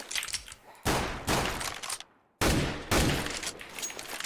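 Gunfire in a shooting video game comes in loud bursts of rapid shots, broken by a brief silent gap before the firing resumes, with no voices over it.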